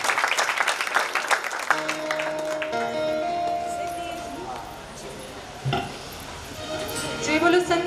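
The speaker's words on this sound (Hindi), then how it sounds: "सबने तालियां बजाकर दीदी का स्वागत करना है।" Brief burst of clapping from a crowd at a Jain religious ceremony, welcoming a woman performer. It fades within a couple of seconds and gives way to sustained sung or played tones with voices.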